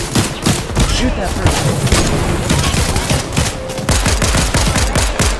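Rapid automatic gunfire in the Fortnite video game, dense loud bursts of shots rattling continuously, close and intense, with a voice talking underneath.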